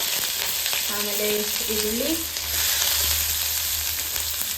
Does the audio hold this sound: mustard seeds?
yes